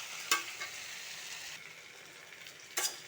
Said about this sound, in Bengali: এখানে আমার মোটামুটি সবজির সাথে মশলা ভাজা হয়ে গেছে